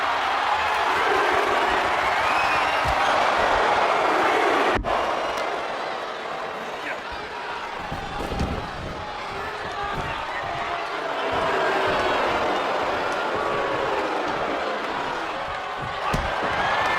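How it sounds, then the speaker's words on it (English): A WWE 2K24 arena crowd roars continuously in a dense, loud wash of cheering with scattered thumps, dipping slightly midway before swelling again, while a commentator's voice runs underneath. "Crowd is electric, knowing that they are witnessing something special."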